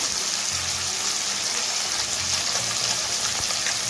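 Small kachki fish fry in white oil over high heat, a steady, dense sizzling hiss with faint crackle that runs evenly through the whole stretch, close by and with no talk.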